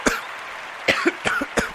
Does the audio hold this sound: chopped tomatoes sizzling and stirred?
no